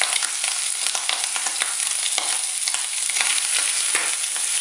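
Shrimp browning in a hot frying pan for pasta with shrimp provençale, a steady dense sizzle with crackling pops and occasional stirring scrapes, close and loud throughout, no voices.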